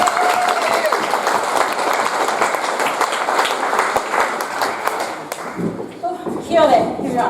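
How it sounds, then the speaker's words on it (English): Loud, sustained applause from a crowd at a wedding reception, dense clapping that fades out near the end, followed by a brief murmur. "Round of applause for Andrea, please."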